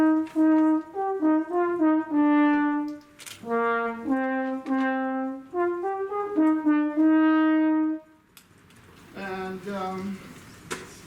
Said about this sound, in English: we go into trombone